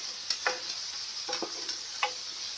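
Chili goes into a frying pan of spinach efo riro with mushroom and broccoli, giving a few scraping stir strokes over a steady hiss of frying, with no talk.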